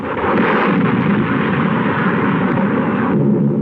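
Bombs exploding during the 1937 air raid on Shanghai form a loud, dense, continuous roar of blasts and rumbling, sustained without break as on an old film soundtrack.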